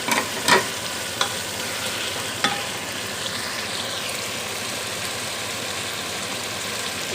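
Taro (arbi) and chicken fry in a pan, a steady broad sizzle with a few sharp clinks of a utensil stirring early on, close and continuous without any talking.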